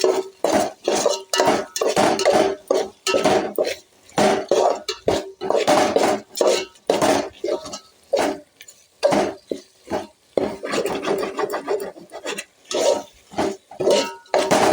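A pot of vegetable biryani rice being stirred and scraped along the bottom, giving a steady run of close metallic scrapes and clinks from the spoon against the pan, with short pauses between strokes.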